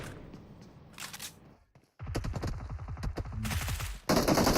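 Automatic weapon fire from a PUBG Mobile scrim match, loud rapid bursts of shots with a dense volley near the start and another sustained spray after a brief lull, ending in a sharp, louder burst.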